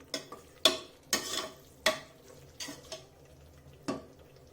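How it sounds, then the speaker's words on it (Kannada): Yogurt masala for egg biryani being stirred in a pan over a low flame, with several separate scraping strokes, each a short rasp against the metal, spaced irregularly and heard close up with no voices. "ಇದನ್ನ ನೀಟಾಗಿ ಲೋ ಫ್ಲೇಮಲ್ಲೇ 1 ರಿಂದ 3 ನಿಮಿಷ ಇದನ್ನ"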